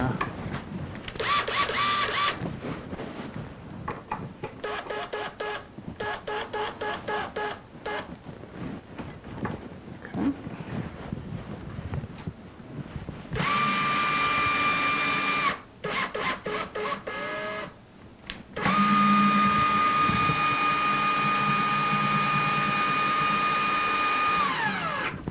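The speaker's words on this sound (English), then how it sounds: "That's just the drill flopping around there is all." A power drill whirs in repeated bursts, starting and stopping, with longer steady runs near the end, during a mini CNC build; close by, with occasional handling clatter between.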